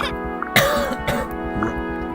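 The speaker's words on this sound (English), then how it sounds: "Sorry about my coughing." A person coughs and clears their throat in a few rough bursts, close and fairly loud over a soft game-music background.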